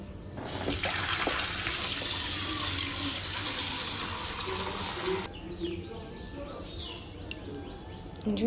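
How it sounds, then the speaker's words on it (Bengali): Sago pearls being washed under running tap water, a steady broad rush of water pouring for about five seconds, then quieter splashing and handling with faint birdsong in the background. "এই সাবুটা নিয়ে নিলাম তো এবার এটাকে ধুয়ে নেব ভালো করে"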